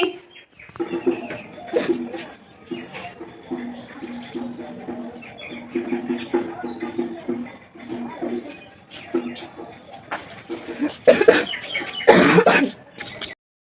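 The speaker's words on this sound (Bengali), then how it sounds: "এত কাশি হচ্ছে না এই বিকালের দিকটায় কাশি হয়" Someone makes muffled vocal sounds, then coughs and clears their throat harshly several times near the end, close and fairly loud.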